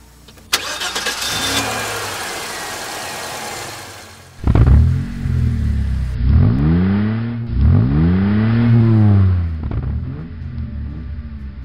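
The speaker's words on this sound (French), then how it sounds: "je retourne à l'intérieur et je lance le moteur" An old car engine cranks after a rough noisy stretch, then fires and catches, revving loudly up and down several times in close sweeping surges before settling toward a rumbling idle.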